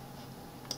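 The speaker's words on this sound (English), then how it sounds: "Then press equals from keyboard" Two quick, light key clicks on a computer keyboard near the end, the equals key pressed while entering a calculation in Mathcad 14, over a steady low hum.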